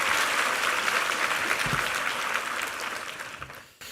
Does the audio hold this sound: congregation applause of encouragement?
yes